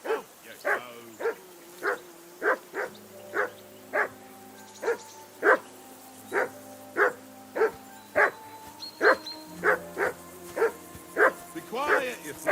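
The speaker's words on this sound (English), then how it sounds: "I assume you can hear that damn dog of yours barking." A dog barks in the video game Kingdom Come: Deliverance 2, with nearly twenty loud, sharp barks in a steady, insistent rhythm over a low droning background.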